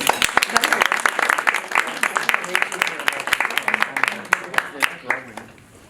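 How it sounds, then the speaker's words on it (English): An audience applauds to welcome a speaker named Miss Kelly, with brisk, close claps building then thinning toward the end, and some talk mixed in. "So please help me give Miss Kelly a round of applause."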